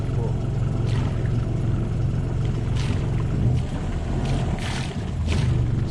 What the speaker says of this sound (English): give it a little rev just to try kick it in, because we don't want the engine to start stalling again